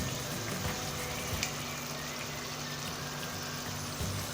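Tomato paste sauce sizzles and fries steadily in a hot pan while butter chicken is being made, a close, continuous crackling hiss with no voices.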